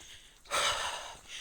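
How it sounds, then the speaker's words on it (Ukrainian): A runner pants hard while hurrying uphill on a frosty morning, giving one sharp gasping inhale followed by a long, breathy exhale, close and fairly quiet. "бо коли я біжу, я завжди задихаюся"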